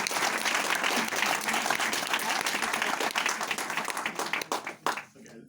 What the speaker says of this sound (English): But again, round of applause.